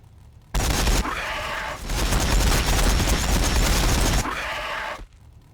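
Dense automatic gunfire from Ork warbikers in a Warhammer 40,000 battle against Tyranids, a loud sustained burst lasting several seconds with a brief dip partway through before stopping abruptly.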